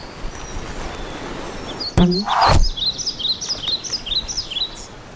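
A small cartoon bird chirping, a quick series of high bright tweets close up, following a sharp thump and a brief rushing whoosh over a steady outdoor background.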